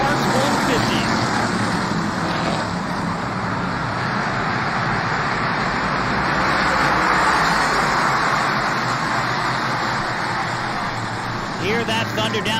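Whelen Modified race cars roar down the back straightaway at Lancaster Motorplex during a race, a steady loud engine drone that holds throughout without breaks.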